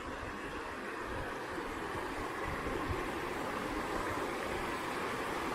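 Steady broadband rush of water flowing along a stream beside a narrow path on a November walk, a constant, fairly quiet babble with no voices.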